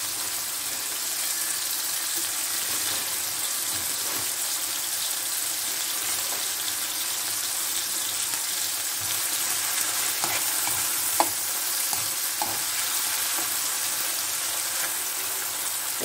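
Onions sizzle and fry steadily in a pan for Moroccan cooking, a continuous broadband hiss with occasional stirring clicks and scrapes, close and even throughout with no talking.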